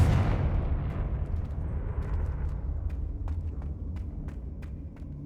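A Confringo blasting spell in Hogwarts Legacy erupts with a loud deep boom that rumbles and decays over several seconds, trailed by scattered faint crackling ticks.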